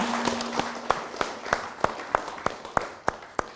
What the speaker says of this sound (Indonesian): Tepuk tangan sekali lagi untuk beliaunya.